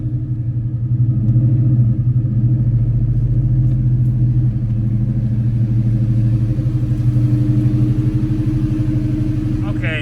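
A 1997 Ford SVT Cobra's 4-valve V8 idles close by in a steady, deep burbling rumble, with a slight swell early on and a faint sound near the end.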